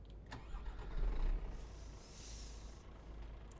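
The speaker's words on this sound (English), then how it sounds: "Okay, let's start the truck." A truck engine starts in the Japan Truck Simulator video game, a short cranking whir that catches and settles into a low idle rumble, heard clearly without talk.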